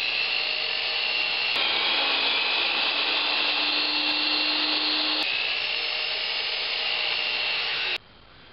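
Steady, continuous sawing through a 2x3 wooden board, loud and close, with a rough rasping texture that runs without pause for about eight seconds before stopping abruptly.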